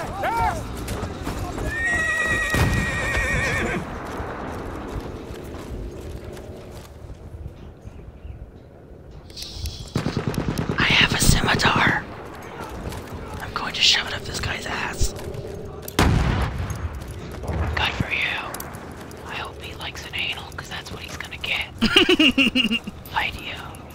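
Battlefield 1 gameplay erupts with gunfire and explosions, mixed with horse whinnies and clip-clopping hooves. Bursts come in uneven, loud clusters, and voices talk over parts of the action.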